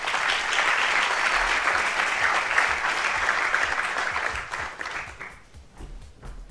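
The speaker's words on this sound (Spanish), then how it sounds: "Un fuerte aplauso, por favor." Audience applause at a Repsol conference session on transport electrification, loud and steady clapping from a crowd that fades toward the end.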